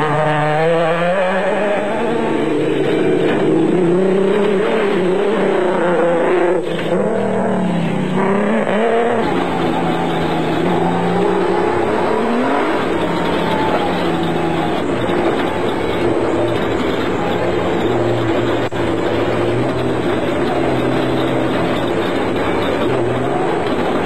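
Nissan Hardbody off-road race trucks at the 2003 Sugarbelt 400 in South Africa, a loud, continuous engine roar with rising and falling revs and no voices.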